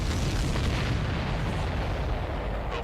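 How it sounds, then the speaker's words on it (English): A large explosion in Ace Combat 7, a sustained heavy roaring blast with deep rumbling and crackling bursts, loud and continuous with no voices. "Everybody, keep a safe distance to avoid getting caught in the explosion."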